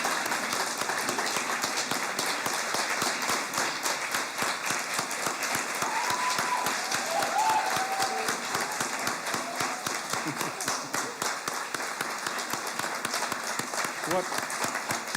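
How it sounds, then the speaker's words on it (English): An audience at an honors college summer graduation ceremony gives the graduates a long, sustained round of applause, a dense and even wash of clapping from many hands held for the full stretch. "Let's give them all a huge round of applause."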